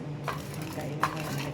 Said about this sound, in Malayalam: ഇത് നമുക്കിതിനകത്ത് നന്നായിട്ട് മിക്സ് ചെയ്യാം